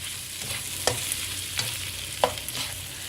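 Fried kuey teow noodles with prawns being stirred in a pan, a steady sizzle broken by several distinct scraping strokes of a utensil at irregular intervals, close and fairly loud with no talking.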